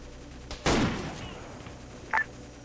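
A single loud gunshot in a Vietnam war video game, close and sharp with a fading tail, followed later by a brief faint electronic blip.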